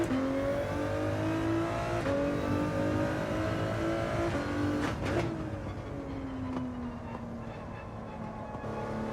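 Mercedes race car in Gran Turismo 7 on the Grand Valley circuit, its engine droning steadily with rising and falling pitch through gear changes and brief clicks of shifting, continuous and moderately loud with no talk.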